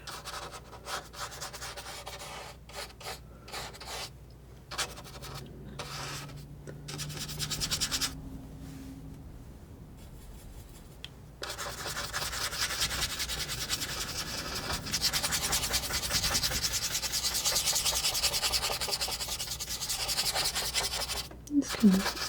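Paint being scrubbed onto canvas with a palette knife, giving soft, close scratchy rubbing strokes in irregular bursts with brief pauses, growing denser and more continuous in the latter half.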